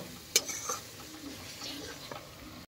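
Spice masala with meat masala and black chilli sautéed in a pan, a quiet sizzle with a sharp utensil knock and soft scraping strokes as it is stirred.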